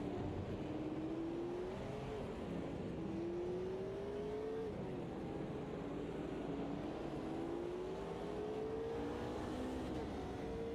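A Corvette race car engine in Project Motor Racing hums continuously at moderate loudness, its pitch climbing in repeated sweeps as the car accelerates, with other car noise blended into the steady drone.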